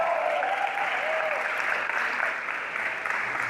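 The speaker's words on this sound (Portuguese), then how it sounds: "E uma salva de palmas para a Camila." An audience applauds a couple introduced at a gathering, a dense, steady wash of clapping hands that fills the whole stretch at even loudness with no voices rising above it.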